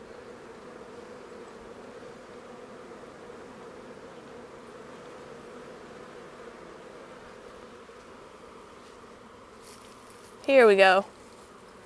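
Honey bees buzz steadily around an open hive frame during an inspection, a soft continuous drone throughout, with a brief spoken phrase near the end.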